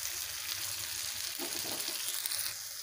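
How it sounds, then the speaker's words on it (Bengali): Spice paste of ground mustard and cumin with salt and turmeric sautéing in a pan, a continuous close sizzle with a few brief bubbling pops near the middle. "এবারে মশলাগুলোকে ভালোভাবে কষে নিয়েছি"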